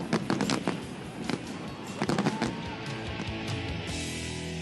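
Fireworks at the Vancouver Folk Music Festival go off in a rapid run of sharp cracks and pops, with a second dense burst a couple of seconds later. A crackling, hissing tail follows, loud and close.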